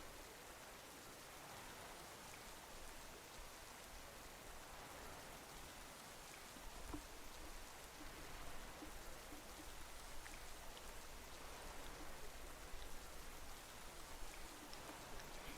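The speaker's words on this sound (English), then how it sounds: "Rain." Steady rain weather effect from a Pokémon battle game, a constant soft wash of falling drops that runs quietly and evenly throughout with no voices.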